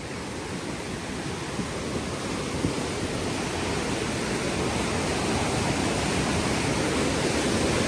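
Fast-flowing mountain stream in Mughal Maidan, Jammu and Kashmir, swollen by rain, rushing steadily and loudly, a dense broadband roar of water with no pauses.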